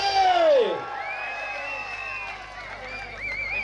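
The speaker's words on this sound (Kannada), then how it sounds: "ಒಂದು ಜೋರಾದ ಚಪ್ಪಾಳೆ" A kabaddi crowd at a senior state men's quarter-final erupts in loud cheering and whooping, with shouts and a voice sweeping high over a sustained roar of the stands.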